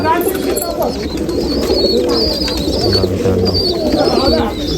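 Racing pigeons coo in low, throaty rolls at a Nashik CIDCO festival, continuous and close, over a busy background of voices and crowd noise.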